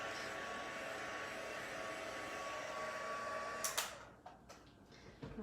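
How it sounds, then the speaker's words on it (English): A heat tool blows steadily to dry ink on a handmade card, a continuous close airy whir that cuts off near the end, leaving a few light handling clicks. "Let me heat set it to make sure it's nice and dry."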